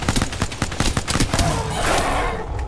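Rapid game gunfire from Apex Legends crackles in a dense burst of close shots through the first half, then trails into a sustained rumbling wash of battle noise.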